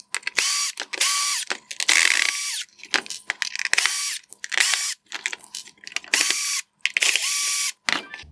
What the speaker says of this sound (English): Next, I'll start removing the screws holding in this back unit.